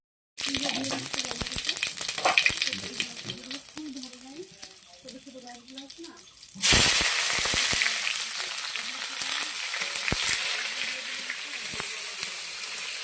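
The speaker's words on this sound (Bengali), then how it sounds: "এই যে এখানে তেল তেল গরম হচ্ছে" Oil sizzles and fries in a pan while spices and garam masala go in, a steady crackle under talk that turns suddenly louder and brighter halfway through as more goes into the hot pan.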